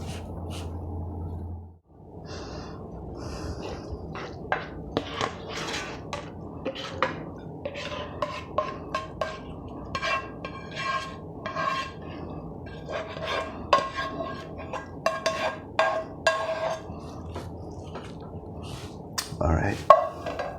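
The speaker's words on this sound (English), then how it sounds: "Again, mix it all together, and then I'll put it in a plate." Mutton bolognese pasta mixed in a pan and plated, with repeated clinks and scrapes of utensils against cookware and dishes, fairly close, over a steady low kitchen hum.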